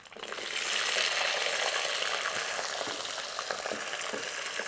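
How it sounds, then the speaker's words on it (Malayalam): Small onions (shallots) with curry leaves sautéing in a hot pan: a sudden sizzle rises as they go in, then settles into a continuous, close frying hiss with occasional stirring crackles. "നമ്മുടെ ഈ ചെറിയ ഉള്ളി വഴറ്റിയെടുക്കണം നമുക്ക്"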